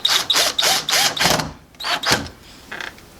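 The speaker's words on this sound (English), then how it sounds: "So I'm going to switch to the drill there," A cordless power drill drives screws into a door entry lock, whirring in short repeated bursts with brief pauses between them, close and fairly loud.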